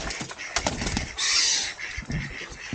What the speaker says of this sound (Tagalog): Ito, uwak naman.